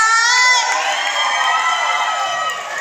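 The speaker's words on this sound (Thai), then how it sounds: "เขาบอกว่าเสียงปรบมือมันดังเบาไปขอดังๆหน่อยได้ไหม" A crowd at a live event cheering and shouting loudly, with children's voices and whoops in a steady, sustained roar close by.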